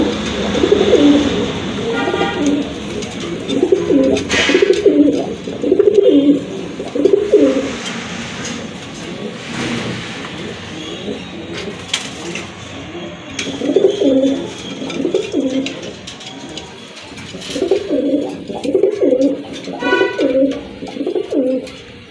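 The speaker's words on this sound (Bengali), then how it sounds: "আরেক জোড়া রাজগোল্লা কবুতর" Large Rajgolla pigeons coo in repeated low, rolling bursts, loud and close, with pauses between phrases and faint background noise.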